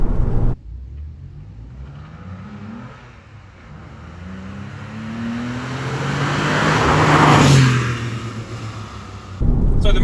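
Engine noise inside a moving pre-facelift Porsche 996 with little sound deadening: a steady drone that swells as the car accelerates, building to a louder, rising engine note before easing off, with no talking.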